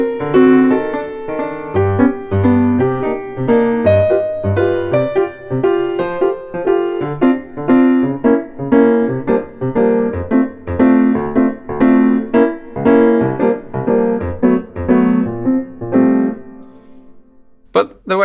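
A jazz piano tune played in a bouncy waltz style, with a melody over steady triple-meter chords running for about seventeen seconds, close and clear, before the playing stops and a brief final sound follows.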